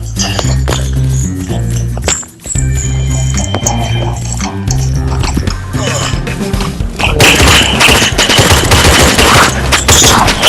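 Rapid, loud machine-gun bursts in a video game, dense repeated gunfire with booms and impacts layered over game sounds, growing more intense toward the end.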